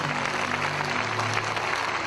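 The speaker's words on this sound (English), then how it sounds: "us clap to Jesus" Steady, dense applause from a congregation at a church service, clapping continuously and loudly without a break for about two seconds.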